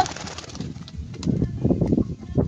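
Pigeon cooing as a bird is released onto the ground, soft low repeated coos close by with some rustling, in a noisy outdoor spot.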